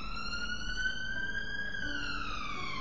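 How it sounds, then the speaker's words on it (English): A police car siren wails on a London street at night, a single rising and falling electronic tone sweeping slowly, fairly distant and alone with no talk. "without the screeching of the police cars going past."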